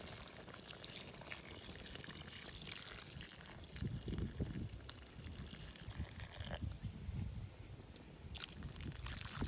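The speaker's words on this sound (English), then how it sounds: "Adding some boiling water." Boiling water, about 800 milliliters, poured into a cast-iron potjie of impala and red wine cooking over a wood fire; a steady, close liquid pour with trickling splashes runs throughout, with no talking.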